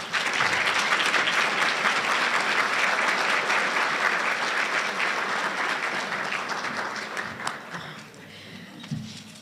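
Loud sustained applause from a crowd at a Southern Utah University scholarship appreciation banquet, dense and steady for several seconds before thinning out into a few scattered claps.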